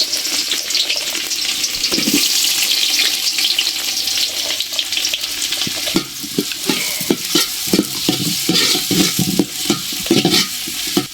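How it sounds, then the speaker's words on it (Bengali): Onions sizzle loudly in hot mustard oil in a pot, with a continuous frying hiss and, later, repeated scraping strokes of a spoon stirring them close by. "এখন পেঁয়াজটা দিয়ে দিলাম"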